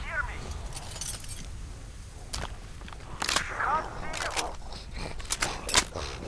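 Keys jangling in the Metro Exodus video game, a few metallic clinks and rattles in short bursts over a few seconds, mid-level, with some game noise around them.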